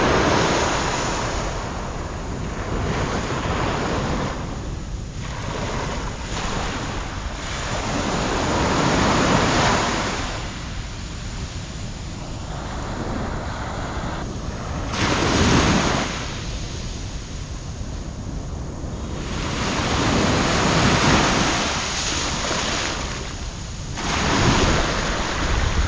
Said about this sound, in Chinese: 芽庄海滩。